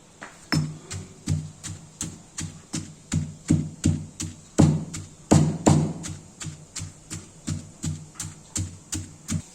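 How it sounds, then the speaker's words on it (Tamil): Steady rhythmic pounding of masala spices and a garlic clove in a mortar, about two sharp thuds per second, close and even throughout with no voices. "மசாலா இடிக்க ஆரம்பிச்சாச்சு."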